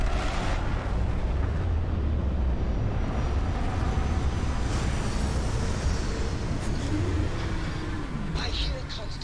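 Spaceship retro rockets fire in the video game Starfield, a sustained, loud, broad roaring rumble with no talking over it.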